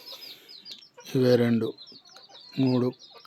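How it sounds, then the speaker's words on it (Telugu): Breeding hens, three young pullets and one red hen kept as quality breeding stock, give two short bursts of low clucking, close and fairly loud, separated by quieter background chirps. "3 కన్నె పెట్టలు."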